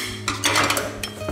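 Dishes and cutlery clatter together in a short burst of clinks and knocks, close by, as items are set down into a dishwasher rack.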